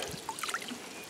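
Liquid trickles and splashes as water and ammonia are poured into a container to soak cast iron, a short faint gurgling pour heard close up with no voices.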